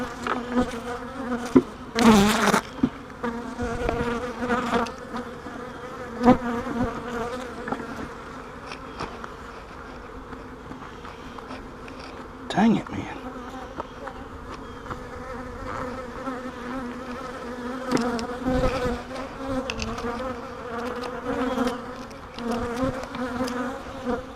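Bees buzz steadily around an opened beehive during an inspection of brood frames with queen cells, a continuous close drone with a few louder passes of individual bees near the microphone.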